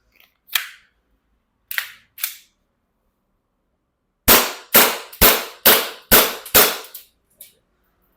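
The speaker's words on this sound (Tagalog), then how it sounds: "So try muna natin itong Glock 18 na WE. Gen 4." Sharp pistol shots from a WE Glock 18 Gen 4 airsoft pistol: three spaced single reports, then a quick string of six loud cracks in a steady rhythm, followed by a faint click.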